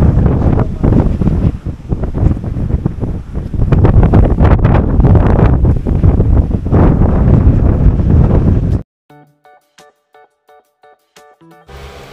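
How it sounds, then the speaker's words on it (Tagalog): Very strong mountain wind buffets the microphone in loud, continuous roaring gusts for most of the stretch, then cuts off abruptly into near silence broken by faint ticking sounds. "sobrang lakas ng hangin at saka nakikita na natin ang clouds"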